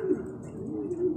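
Pigeons coo softly, close by, with low throaty warbling calls and faint rustling in the background.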